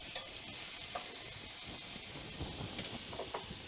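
Chicken pieces browning in a hot pan give a steady close sizzle with soft crackles and occasional small pops and stirring clicks, no voices.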